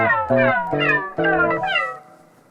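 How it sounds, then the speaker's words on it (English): A string of loud, close cat meows, about five in quick succession, sampled and played through a bass rig, with a synthetic tone and rising-falling pitch, then a fading tail. "That's a sample of a meow"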